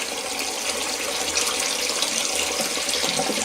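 Tap water runs steadily into a sink to cool cooked chicken for Hainanese chicken rice, a constant close hiss and splash with no voices.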